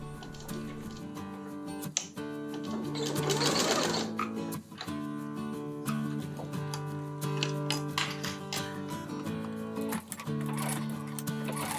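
Sewing machine stitching a face mask with elastic hair bands and a black filter bag layer, a close, continuous mechanical chatter with brief pauses and speed changes as it runs back and forth to lock the seam.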